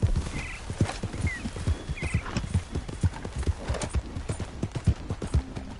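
Hooves pound in a fast, even gallop as a horse runs in Red Dead Redemption 2, the loud thudding beats close and prominent, with a brief neigh in the background.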